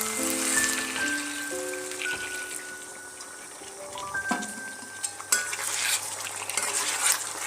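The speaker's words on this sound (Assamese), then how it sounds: "এতিয়া মই ইয়াতে অলপ গৰম পানী দি দিম।" Hot water pours into chicken curry frying in a pan, giving a steady sizzle and bubbling with some stirring scrapes, close and moderately loud, with no talk.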